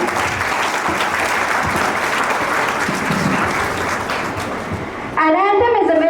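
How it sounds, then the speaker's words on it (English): Sustained applause from a large audience at a school investiture ceremony fills the hall for about five seconds, then gives way to a voice speaking. "Just give a huge round of applause for the charm for everyone."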